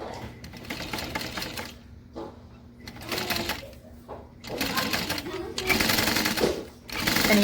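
A sewing machine bastes a pocket in place with an eighth-inch seam allowance, running in several short bursts separated by brief pauses, close and fairly loud, with a voice talking in between.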